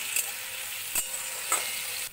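Spice paste with garam masala, cumin, coriander, Kashmiri red chilli and turmeric powders sizzles steadily in a pan for an egg curry, with three short stirring scrapes spaced about every half second.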